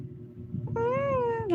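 A single long, clear cat meow rises and falls over roughly three quarters of a second. It sits above a low background hum, and no one talks.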